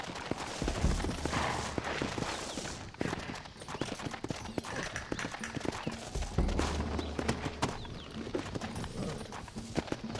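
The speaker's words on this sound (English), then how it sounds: "Looks like Carlos left us some horses." Horse hooves clip-clop in a quick rhythm in Red Dead Redemption, alongside scattered bangs and background game noise, fairly faint and continuous.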